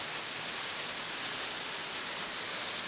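Rain falls while the sun shines, a faint, steady wash of drops on surfaces, continuous and even, with one tiny click near the end and no voices.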